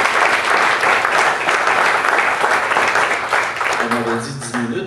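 Audience applause fills the room during a Rotary Club of Quebec installation address, loud continuous clapping that begins to thin out as a voice starts speaking over the tail end.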